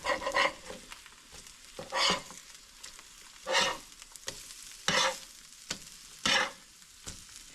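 A vegetable skillet with frying eggs sizzles steadily in a pan while a spatula flips and scrapes in several distinct bursts, roughly every second or so, close and clear with no talking.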